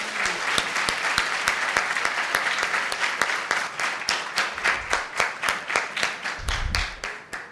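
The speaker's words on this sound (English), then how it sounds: "Please, a huge round of applause for that point." Audience applause at a panel discussion on innovation and entrepreneurship: sharp, rhythmic group clapping, near and steady, that gradually thins out.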